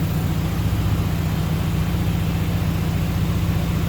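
A Honda B20 VTEC engine, run on a dyno with its air filter removed, gives a steady, loud, continuous low drone without pauses.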